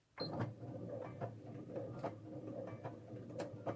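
A sewing machine runs at a slow pace, giving a close, steady mechanical whir with a faint rhythmic ticking of the stitching action and no talking.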